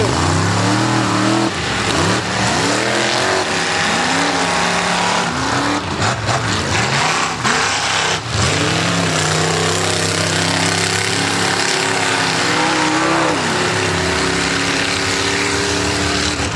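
Mud racing trucks roar at a mud ranch event, with loud engines revving and climbing and falling in pitch again and again, multiple vehicles overlapping in a constant, aggressive din.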